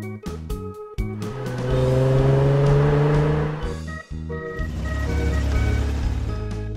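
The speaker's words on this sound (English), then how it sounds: "Race car." A race car engine revs hard in rising, whining pulls, its pitch climbing and falling through a couple of bursts before settling into a low, throaty idle.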